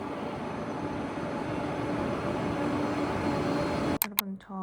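A passenger train in motion from a rider's point of view, with a steady low rumble and broadband hiss held throughout, then a sudden jolt and rattle near the end.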